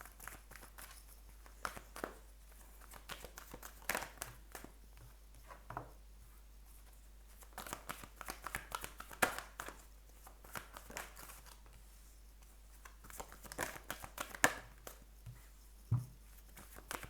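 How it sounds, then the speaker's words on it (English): Tarot cards are shuffled by hand close by, making soft irregular riffles, pats and papery rustles that stay faint, with no talk. "I'm going to shuffle the cards first"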